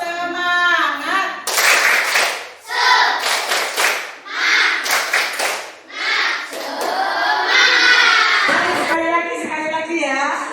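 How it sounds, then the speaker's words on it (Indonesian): Children in a classroom chant and clap the rhythmic 'tepuk semangat' routine, groups of quick sharp claps alternating with shouted chant lines, loud and close with a teacher's voice leading at the start. "Tepuk semangat."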